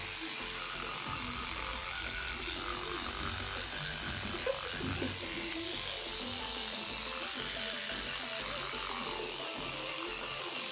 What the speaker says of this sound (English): Brushing our teeth.